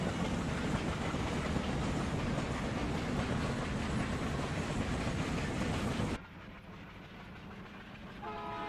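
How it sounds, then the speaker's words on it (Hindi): A locomotive-hauled train pulling at full power at about 55 km/h: loud, dense rumbling and rattling of wheels on track that roars steadily, then drops abruptly to a quieter clatter near the end. "लोकोमोटिव पूरी पावर लगा रहा है, 55 किलोमीटर की स्पीड है"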